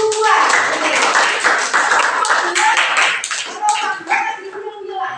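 Schoolchildren clapping in a classroom for fellow student groups, loud and close, with uneven claps mixed among children's voices and chatter, thinning out toward the end.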